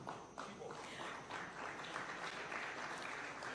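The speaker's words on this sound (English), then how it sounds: "A round of applause as they go to receive these awards." Faint, steady applause from an audience at a taxpayers' day awards ceremony as recipients go up to collect their awards, a continuous patter of clapping lasting a few seconds.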